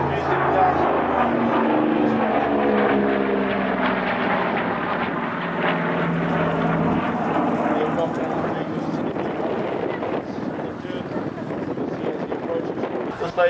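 Douglas DC-4 airliner with twin-row Pratt & Whitney Twin Wasp radial engines flying past, a loud steady droning roar with a harmonic hum that lasts the whole stretch and slowly thins toward the end.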